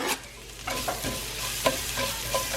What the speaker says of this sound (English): So this is the perfect time to throw in the garlic.